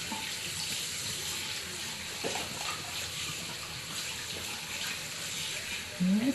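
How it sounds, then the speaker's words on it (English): A tap runs steadily while hands are rinsed under it, a continuous close wash of water with a louder gush near the end. "I'm gonna go in and rinse my hands."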